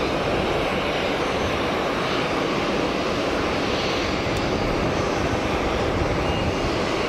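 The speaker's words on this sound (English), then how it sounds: "In from Madrid, the Iberia 320" An Iberia Airbus A320 arriving from Madrid at Geneva airport makes a loud, continuous jet roar that stays steady and close throughout, alone without speech.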